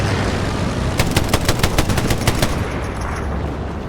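Rapid automatic gunfire as cover fire in the World War II shooter Hell Let Loose, a sustained burst of about a dozen sharp, evenly spaced rounds over a steady battlefield rumble, fairly close and loud.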